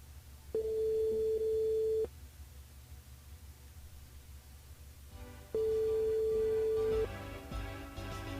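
A telephone ringing during a call to a listener on a radio show, two long, steady electronic ring tones separated by a pause of a few seconds, heard over a phone line.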